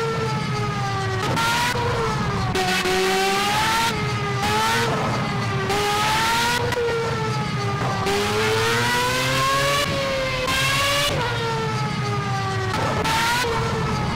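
A high-revving Formula A racing car engine in Project CARS on Xbox One screams continuously, its pitch repeatedly climbing then dropping sharply as gears shift, loud and close.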